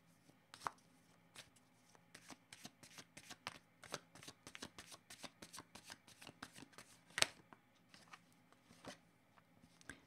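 Tarot cards being shuffled by hand before a draw, a steady stream of close, soft riffling slaps and flicks repeating for several seconds in a quiet room.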